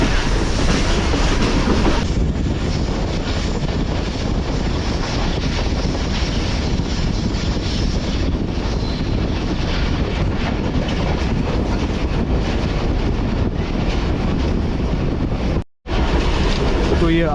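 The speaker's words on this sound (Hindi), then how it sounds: "तो एक्सट्रीम राइट कर्व ले रही है ट्रेन" A Subak Raftar railcar rumbles steadily along an extreme right-hand curve above deep ravines on the way to Lahore, with a loud, continuous roar and wind buffeting that cuts out briefly near the end.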